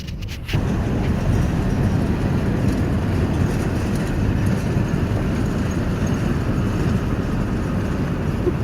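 A vehicle drives along a dusty dirt road, a steady loud low rumble of engine and tyres on gravel running unbroken throughout, with wind buffeting mixed in.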